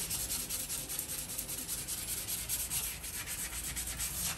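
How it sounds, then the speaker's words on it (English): Sandpaper rubs back and forth over coloured stain on wood, a soft, quiet, rhythmic scratching of steady strokes close by, with no voices. "And then I just sand over the stain to pull through some of that driftwood texture."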